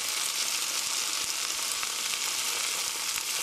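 Grated potato hash browns frying in a pan, a steady dense sizzle of hot oil crackling close up and unbroken throughout, with no talking.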